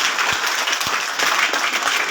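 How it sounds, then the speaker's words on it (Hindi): A crowd at a Babasaheb Jayanti procession closing programme claps vigorously in a sustained, dense burst of applause with a few sharper claps standing out, no speech. "एक बार जोरदार ताली बजा दीजिए"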